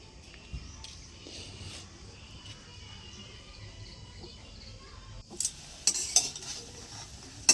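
A pot on a home stove sizzles softly while a utensil stirs and scrapes, with a few sharp metallic clinks toward the end, fairly quiet and close.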